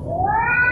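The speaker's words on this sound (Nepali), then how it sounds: "यो बिरालोले पनि सत्तै उडाइदियो" A single drawn-out cat meow rises in pitch, close and fairly loud, with no talking over it.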